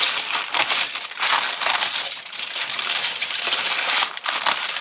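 Close, crisp snipping and crunching from scissors cutting through material, repeated in short uneven bursts without a pause.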